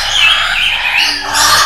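A pet white-rumped shama, or murai batu, that is losing its feathers calls in a steady run of bright, sweet chirps and whistles, close and fairly loud, with no voices over it.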